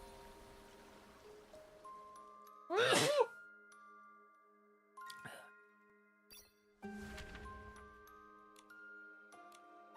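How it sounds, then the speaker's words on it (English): One sharp sneeze bursts out near the microphone over soft, sustained electronic tones, followed by a couple of smaller breathy bursts and faint ticks in a quiet room. "It's gonna be a sneeze."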